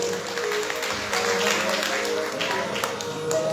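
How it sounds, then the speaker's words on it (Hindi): A gathering at a Bhagwat Katha event claps for a little girl's first birthday, steady applause from a moderate crowd with voices talking over it. "एक बार जोरदार तालियां।"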